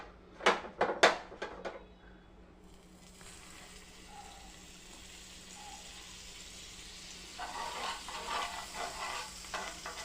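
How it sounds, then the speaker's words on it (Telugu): Butter melting and spreading in a hot pan before pineapple slices go in, giving a soft steady sizzle after a few sharp knocks at the start, with the crackle rising louder toward the end. "ప్యాన్ హీట్ అయిన తర్వాత బటర్ వేసుకోవాలి"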